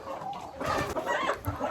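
Local chickens of Brahma and Goliath breeds clucking in a farm yard, a steady mix of overlapping clucks and fowl calls at moderate distance with no talk.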